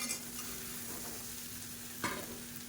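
Coconut, coriander and mint masala stirred in a frying pan with kolukattai dumplings: a steady soft sizzle with one brief scrape of the spatula, close and fairly quiet.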